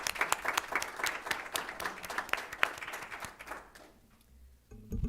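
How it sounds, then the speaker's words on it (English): A school board meeting audience applauds the scholarship semifinalists with dense, steady clapping that gradually thins out and fades near the end. "Let's give them all a round of applause for this."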